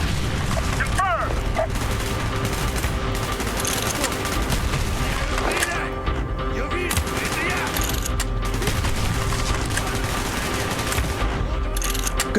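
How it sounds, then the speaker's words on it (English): Sustained bursts of gunfire in Call of Duty: Black Ops (2010) with booms and mechanical clatter, loud and continuous throughout, with voices mixed in under the shooting. "Gunfire's drawing attention."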